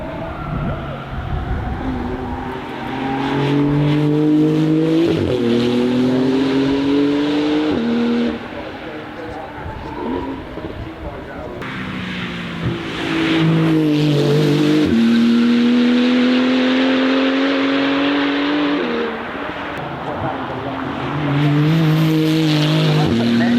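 Porsche Manthey Racing 991 GT2 RS MR engine revving hard, rising in repeated climbing pulls through the gears with brief drops between shifts, loud and close.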